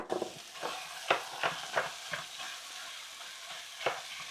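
Spiced pork tenderloin tossed with onion shoots in a hot pan, soft sizzling under a series of scraping stirs roughly every half second, quiet and close.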